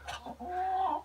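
Backyard chickens clucking in a farmyard poultry run, a short close burst of a couple of soft clucks followed by a drawn-out, slightly rising hen call, quiet overall.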